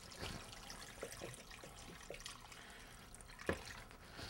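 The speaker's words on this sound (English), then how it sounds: "we're going to fill it with water, or at least cover it with water" Water pours and splashes into a container over pickled fish, a steady close trickle with a few louder drips and plops, no voices.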